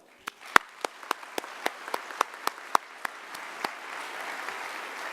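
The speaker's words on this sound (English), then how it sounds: "How about another round of applause for them?" Applause for inductees at an aviation hall of fame induction ceremony opens with a series of sharp, distinct claps that quickly swell into a softer, continuous wash of audience clapping.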